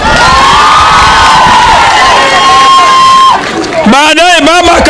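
Large open-air political rally crowd in Kibra, Nairobi, roaring with loud, sustained cheering, shouts and whistles. A high shout rises over the din near the end.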